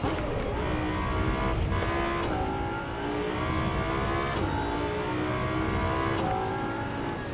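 An Audi R8 GT4 race car revs and runs at speed in the Assetto Corsa EVO racing game, a loud, continuous engine howl rising in pitch and then dropping sharply at each of several gearshifts, with no talking.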